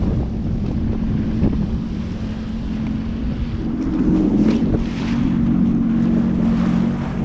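A Sea-Doo personal watercraft engine drones steadily on open water, loud and close, with wind buffeting the microphone and water splashing throughout.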